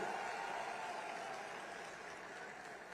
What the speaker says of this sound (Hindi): सारथी जरा जोर से ताली बजाओ किशन भाई के लिए